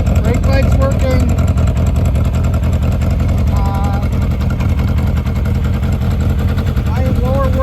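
A 1983 Kawasaki KZ750 LTD shaft-drive motorcycle with a small exhaust leak on the left side idles steadily, its loud, close engine drone running unbroken throughout while someone talks over it.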